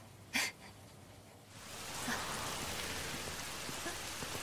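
Rain falls in a steady hiss that swells in after a brief quiet stretch and then holds as an even, close wash of drops on surfaces, with no voices over it.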